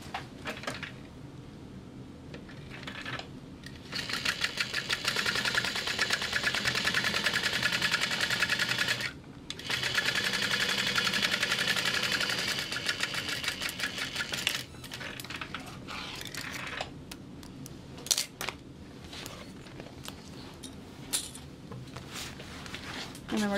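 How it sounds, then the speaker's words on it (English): A sewing machine top stitches the bottom panel of a large bag, running in two long steady bursts separated by a brief pause, then continuing in shorter intermittent runs with clicks. "And then we're top stitching on the bottom panel."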